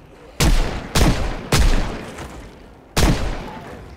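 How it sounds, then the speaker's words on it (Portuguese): In the zombie survival game Project Zomboid, four loud, booming gunshots ring out at irregular intervals, each with a sharp attack and a lingering echo tail, with no talking. "Deu um monte de tiro do lado dele aqui"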